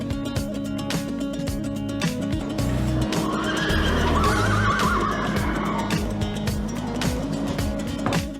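Champion racehorses neigh and whinny amid a loud, busy background of constant noise, with the calls rising over the din for several seconds.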